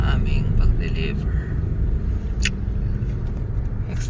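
Heavy road traffic heard from inside a car in May Kawayan, a steady low engine rumble with passing vehicle noise and a couple of brief higher squeaks, continuous throughout.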